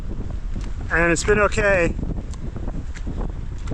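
Wind buffets a microphone in a low, steady rumble on an off-road bikepacking section in Torridon, Scottish Highlands, with a person speaking briefly over it.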